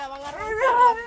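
Household dogs give a short, close whimpering yelp with a rising whine, loud and alone for about a second.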